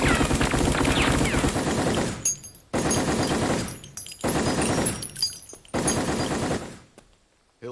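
Anime gunfire erupts in four long, dense machine-gun bursts, each a loud rattling volley lasting about two seconds, separated by brief quiet gaps.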